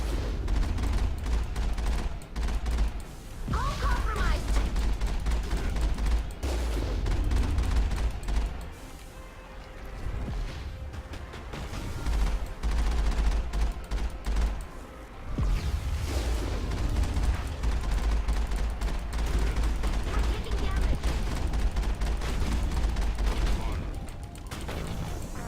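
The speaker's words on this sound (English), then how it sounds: "That's something that's shooting at me." Enemy gunfire in the Mass Effect video game, aimed at the player's Mako vehicle: dense, loud mechanical clatter and rattling bursts running almost continuously, with brief lulls around the tenth and fifteenth seconds.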